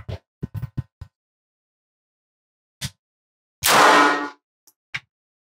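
A single sharp, loud crack from an S&W Bodyguard 2.0 pistol fired at a steel target, with a short metallic ring. A few small clicks and handling ticks come before it, and quiet taps follow.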